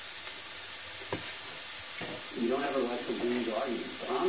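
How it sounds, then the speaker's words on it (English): Tomatoes sauté in oil in a pan, a soft sizzle rising partway through and continuing steadily with light stirring noises, close and moderately quiet. "So you're going to saute this for about 5 minutes."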